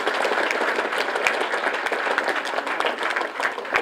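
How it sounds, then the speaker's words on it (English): Audience applause for both teams at a sixth-grade quiz bowl semifinal, steady dense clapping throughout, fairly loud and continuous with no talk over it. "Let's have a big hand for both teams from our first Whiz Quiz semifinal."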